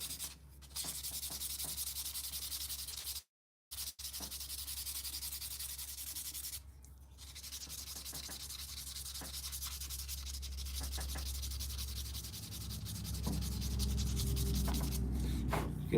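A wooden tobacco pipe is sanded by hand to remove scratches, long continuous gritty rubbing strokes up close, pausing briefly twice, then growing heavier and rougher toward the end.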